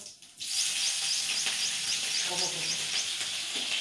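Mustard seeds, cumin and green chillies hit hot oil with a sudden loud, steady sizzle and scattered pops and crackles, close up and continuous after a quiet start.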